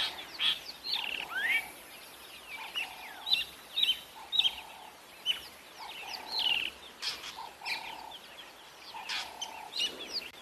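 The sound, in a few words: drongo calling loudly while mobbing an eagle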